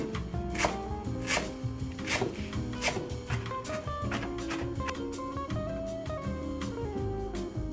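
A knife roughly chops a folded, bunched handful of cilantro on a board, with quick, uneven thuds and taps close up, heard over faint background music.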